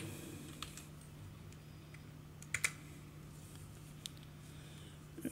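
Sparse computer keyboard typing, a few light key clicks spaced out over a low steady hum, faint and close with no talking.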